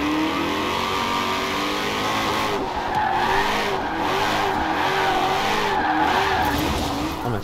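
A Chevrolet Camaro ZL1 in the Forza Horizon 4 racing game drifts with a loud, continuous engine snarl and repeated rising and falling tire squeals through several slides.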